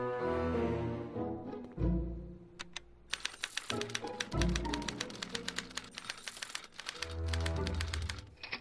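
Rapid typewriter key strikes and clacks from a typewriter in the Back to the Future video game, a dense rhythmic burst of loud mechanical taps over a tonal musical background.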